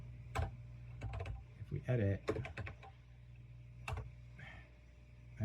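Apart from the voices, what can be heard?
typing on a Commodore 64 computer keyboard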